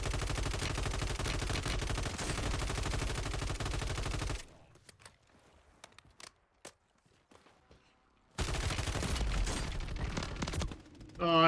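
Gunfire in the Warzone battle royale video game: loud, dense rapid bursts of shots, a quieter gap with a few sharp scattered cracks, then another sustained barrage.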